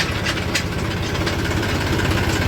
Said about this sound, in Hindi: ट्रैक्टर तेज हो रहा है बहुत ज़्यादा